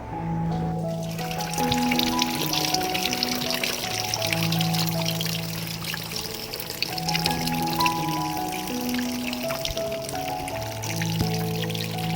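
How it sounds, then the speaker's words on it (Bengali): Water pours steadily into a washing machine loaded with laundry, a continuous close trickling rush under a melodic background tune. "পরিমাণ মতো জল নিয়ে নিয়েছি আর যা যা ওয়াশ করা ছিল সবই মেশিনে দিয়ে দিয়েছি"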